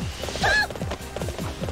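Galloping horse in Warriors Orochi 3: rhythmic clip-clop hoofbeats repeat steadily and close, with a sharp neigh near the start.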